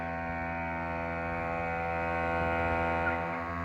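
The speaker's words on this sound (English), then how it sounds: "I'm inflating a flat tire" A Viair portable air compressor runs steadily while inflating a flat tire, a close, constant droning hum with a buzzing mechanical tone that holds unchanged throughout.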